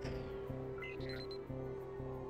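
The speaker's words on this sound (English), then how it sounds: "I'm going to wait in here until this alarm turns off." An alarm blares in the Spider-Man video game from 2002, a steady pulsing tone that repeats about twice a second over a continuous hum, loud and close, with no talk.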